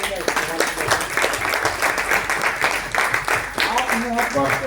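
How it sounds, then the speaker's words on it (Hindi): An audience at a Hindi poetry recital claps steadily for about five seconds, fairly dense and continuous, with voices and faint tones mixed in underneath. "एक बार जोरदार तालियों से इनका इस्तेमाल करें"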